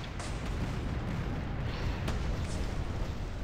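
Pirate ships in the Ukrainian game Tempest fire their cannons in a dense, continuous barrage of booming shots, loud and close, that fills the whole stretch without a pause.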